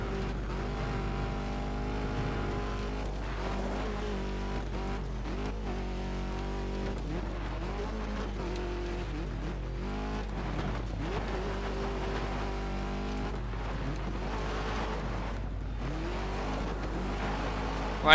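Rally cars race in the video game Colin McRae Dirt 2. The engine roars steadily and loudly throughout, with revs rising and falling through gear changes and a constant low drone underneath.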